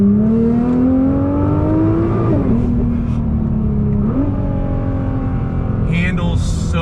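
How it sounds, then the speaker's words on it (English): A modded 2018 Nissan GTR R35 downshifts with blips and then accelerates hard, its engine note climbing and dropping in loud, close sweeps, heard from inside the car. "Downshift into this right-hand turn here."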